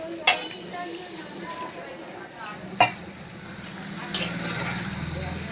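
Hot water is added to a sautéed curry in a pan. A few sharp metal clanks ring out, then a steady hissing sizzle rises and continues as the liquid hits the hot pan.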